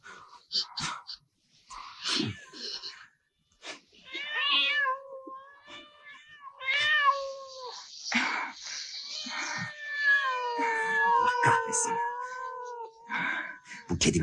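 A cat meows repeatedly in drawn-out, wavering cries, close and fairly loud, with short voices and noises between calls.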